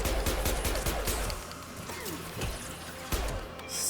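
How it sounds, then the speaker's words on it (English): Rapid pistol gunfire in the video game Mass Effect 2, a dense burst of overlapping shots with loud impacts during combat, continuing over a busy game soundscape. "Start shooting our pistols at them."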